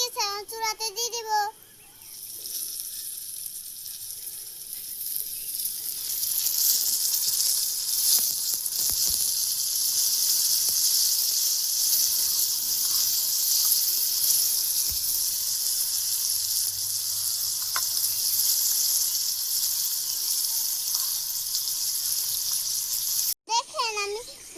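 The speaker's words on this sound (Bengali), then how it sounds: "দেখেন আমি টমেটো বানাচ্ছি, টমেটো দিয়ে ভাজি।" Tomatoes fry in a pan on a stove at home, with a steady loud hiss and sizzle for most of the stretch. Someone speaks briefly at the start and again at the very end.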